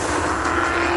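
Aston Martin V8 Vantage Roadster driving past or revving, a loud, dense engine roar held steady for a moment with a broad rushing edge, no talking.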